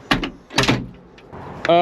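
Sliding cab door on a CAT excavator rolls and clunks shut with a couple of distinct knocks, followed by a short rattling slide, close by and fairly loud.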